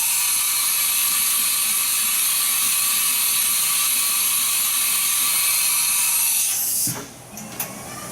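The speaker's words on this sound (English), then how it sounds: "whenever I press ATC forward, the carriage is going to rotate" A CNC milling machine's automatic tool changer carriage rotates with a steady, loud mechanical whir and hiss that holds for several seconds, then stops abruptly, followed by a couple of faint clicks.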